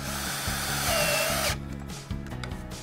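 Power drill driving screws into vinyl stair railing brackets, a close whirring spin that stops midway, followed by light clicks and handling noise.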